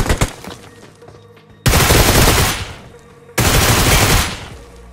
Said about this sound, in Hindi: अब यहाँ सामने से गोली चली थी